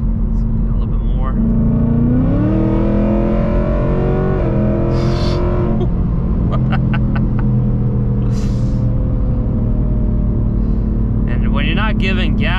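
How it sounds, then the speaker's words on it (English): A 2024 Ford Mustang GT in track mode pulls hard with a loud, steady engine roar and rising revs, broken by a few sharp exhaust pops and burbles, heard close up. "Track mode gives you like those occasional pops and burble, which makes this really fun to drive."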